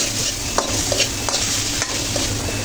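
Spice paste stirred and frying in oil in a pan before fish roe goes in, a steady close sizzle with a few soft scraping stirs of a spoon.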